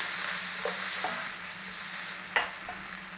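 Tomato paste and onions being stirred in a frying pan, giving a steady soft sizzle with a few light utensil scrapes and taps against the pan, close and continuous with no talking.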